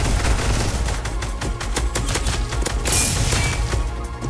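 Rapid bursts of SCAR rifle gunfire in the shooter game Weaponry, loud and dense, cracking repeatedly with no talking over it.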